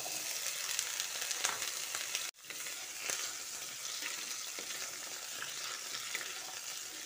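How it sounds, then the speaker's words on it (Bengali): Diced potatoes fry in hot mustard oil in a wok with a loud, dense crackling sizzle, cut by a sudden brief gap of near silence, then resuming with occasional stirring scrapes. "এবার গরম তেলের মধ্যে আলুটাকে ভেজে নেব।"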